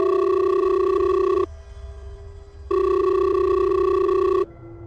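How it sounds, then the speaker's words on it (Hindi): A phone rings in a pocket with two long electronic ring bursts split by short pauses, loud and close, with no talking. "उस वक्त तक जब तक उसकी पॉकेट में रखा फोन नहीं बजा।"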